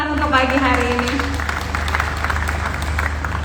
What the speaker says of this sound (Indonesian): Boleh kita berikan tepuk tangan untuk pagi hari ini.